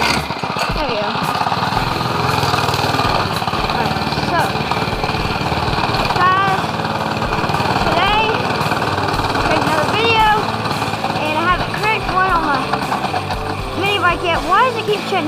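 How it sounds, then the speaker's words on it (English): Mini dirt bike engine running steadily nearby as a busy, buzzing drone that holds through the whole stretch, with brief revving warbles rising over the top. "on my mini bike, dirt bike, right when I get on it, it shuts off."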